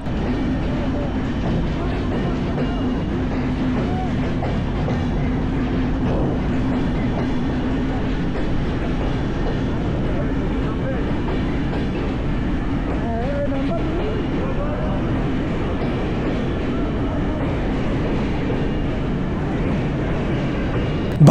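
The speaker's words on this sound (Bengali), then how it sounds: "আমাদের ট্রেনটা নোয়াপাড়া রেল স্টেশন থেকে ছেড়ে আসার 5 মিনিটের মধ্যেই সিংঘিয়া রেল স্টেশনে পৌঁছে গিয়েছে" A passenger train rumbles and rolls steadily near a railway station in Bangladesh, with a continuous loud low drone from inside the moving carriage and faint clatter throughout.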